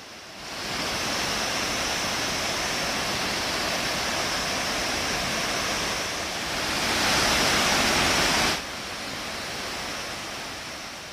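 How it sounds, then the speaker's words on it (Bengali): Chhange waterfall in North Bengal, a large cascade pouring down into a gorge, heard as a loud, continuous broadband roar of rushing water that swells briefly before settling again. "মূল জলপ্রপাত ছাগে ওয়াটারফল নামে পরিচিত"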